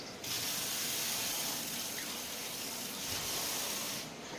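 Steady stream of water pouring from a tap into a vessel to wash rice before soaking, a continuous hissing splash of moderate loudness that runs alone for several seconds.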